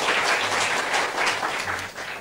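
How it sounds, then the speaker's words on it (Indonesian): Dense, loud congregation applause for a church praise and worship team, many hands clapping continuously and evenly throughout with no pause. "Boleh kasih tepuk tangan buat tim praise and worship kita."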